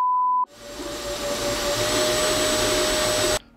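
An FL-SUN S1 high-speed FDM 3D printer runs loudly after a short beep, its fans building into a steady, whooshing roar with a thin whine on top that holds for about three seconds, then cuts off abruptly.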